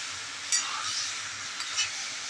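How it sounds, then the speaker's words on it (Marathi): Paneer chilli is stirred gently through masala in a pan, a soft steady sizzle with a couple of faint scraping strokes from a spoon, quiet and close. "आता हे हलक्या हाताने ढवळायचं पनीरला सर्व हा मसाला लागला पाहिजे"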